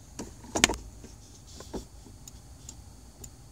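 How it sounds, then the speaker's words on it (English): A faint pair of small clicks from a homemade gear display switch in a 2015 Subaru Forester as gears engage, with light mechanical ticks and rustle around them in a quiet cabin. "In fourth gear, there's that click, and then in sixth gear."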